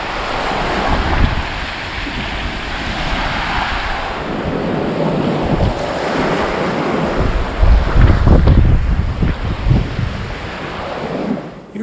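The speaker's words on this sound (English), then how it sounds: "These winds are not letting up. Look at these little waves." Strong wind roars across the microphone outdoors on the water during fishing, with small waves lapping and splashing underneath in a constant, loud, gusty wash.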